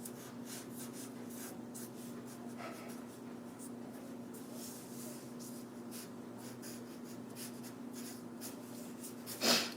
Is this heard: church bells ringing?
no